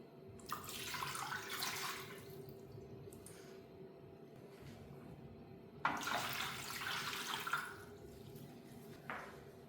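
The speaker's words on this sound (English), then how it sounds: "Then I add some cold water." Cold water pours in two separate bursts into a glass jar, splashing briefly, with short quieter dribbles between and after, faint and close.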